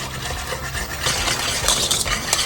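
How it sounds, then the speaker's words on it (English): A roux of butter, flour and milk for mac and cheese whisked in a pan, with quick scraping and clinking strokes against the metal at close range and a light bubbling sizzle underneath. "And just keep whisking so I don't get too many lumps."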